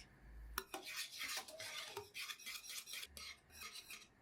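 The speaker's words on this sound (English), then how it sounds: "Put the mix over medium heat and continue to whisk." Whisk scraping and stirring a muhallabiya milk pudding mix in a pot over medium heat, steady close metallic clinks and rubbing strokes throughout, no voices.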